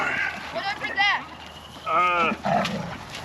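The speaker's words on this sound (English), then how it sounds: "want to see the baby goats?" Baby goats on a goat farm let out a few short, wavering bleats close by, with people talking around and between the calls.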